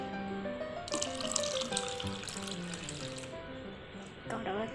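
Water poured into a glass of mint juice for a lemon and mint sherbet, a steady close splashing stream that runs for several seconds with a brief bubbling rise near the end.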